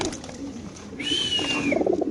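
Large racer pigeons, including a Kaldom pair, coo in cages at a pigeon sale, a low cooing murmur with a clear higher call rising briefly in the middle, close and moderately loud.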